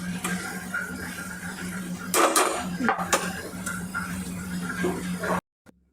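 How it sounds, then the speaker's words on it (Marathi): Grated coconut fries with onion in a pan for a Marathi chicken curry, a constant sizzle broken by metal spoon clatter against the pan, with a voice talking over it before it cuts out. "खोबरं याच्यात फ्राय करून घेऊ"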